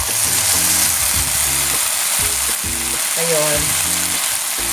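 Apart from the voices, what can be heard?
pasta sauce added to frying pan, sizzling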